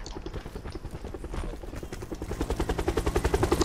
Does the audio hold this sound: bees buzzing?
no